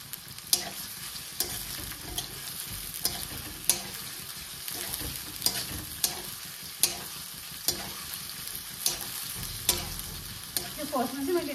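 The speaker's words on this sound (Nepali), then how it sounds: "यो फर्स्टमा चाहिँ मैले दालचिनी र यो के पो तेजपत्ता फ्राई गरेको" Cinnamon and bay leaves fry in hot oil for chicken biryani, with a steady crackling sizzle and sharp spoon strokes against the pan repeating every second or so, close and fairly loud.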